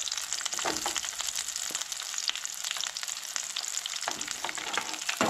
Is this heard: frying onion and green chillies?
yes